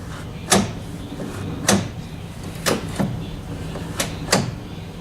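A car door is opened and closed several times after its hinges have been lubricated, producing about six sharp, fairly loud clunks at irregular intervals with no squeaking and no voices.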